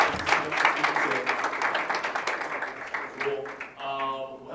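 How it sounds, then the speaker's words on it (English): An audience at a tech talk claps for a speaker in a brief round of applause, a dense patter of hands that thins out, with voices talking over and after it. "let's give a round of applause for Rob"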